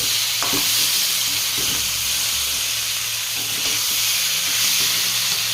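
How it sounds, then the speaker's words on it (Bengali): Potato and cauliflower pieces fry in hot oil with spices, giving a steady loud sizzle with a few scraping stirs of a utensil in the pan and no talking. "মশলার সাথে খুব ভালো করে আলু ফুলকপি মিশিয়ে নিয়েছি।"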